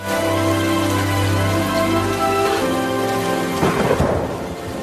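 Rain falling steadily in a film scene, a broad continuous wash with a low rumble of thunder swelling near the end, heard under a musical score with no voices.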